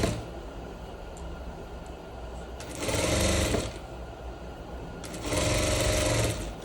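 A sewing machine stitching pleated trousers runs in two loud, steady bursts of rapid mechanical whirring, each about a second long, separated by quieter pauses of handling.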